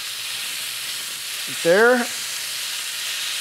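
Steaks sizzle in non-stick skillets right after being flipped, a steady close frying hiss throughout, with a voice briefly speaking over it midway.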